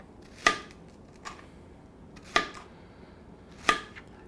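A knife slices through zucchini on a cutting board in three sharp, spaced chops with a softer tap between, close and alone in a quiet kitchen.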